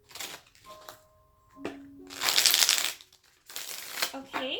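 Tarot cards are shuffled by hand in several quick riffling bursts separated by short pauses, close and crisp, with a brief tonal tap partway through.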